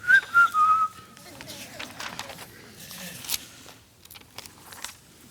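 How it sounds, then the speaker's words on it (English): A person whistles a brief tune at the start, then quieter rustling and a few soft scattered sounds follow. "Up here humming and whistling."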